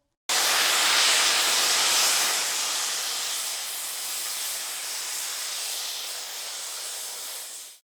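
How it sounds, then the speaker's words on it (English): A household steamer fitted with a bowl and a piece of cloth gives off a steady, loud, broadband steam hiss that starts abruptly, swells briefly, then holds nearly level for several seconds before cutting off, with no voices. "the steamer is a dud by itself, but I add a bowl and a piece of cloth to the mix"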